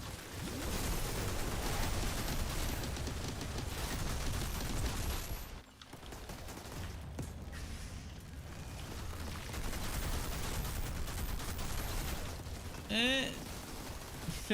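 Long bursts of rapid light machine gun fire from the video game Outriders, dense and continuous for most of the stretch, with a brief lull midway, all layered under game effects.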